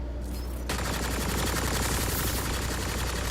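Dense, continuous automatic gunfire in the sci-fi shooter Mass Effect: Andromeda bursts in after a brief quiet moment and stays loud and rapid to the end.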